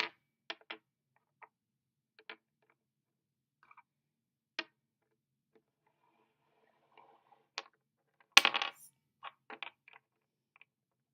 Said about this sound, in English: with 8 cubes, I am going to build a wall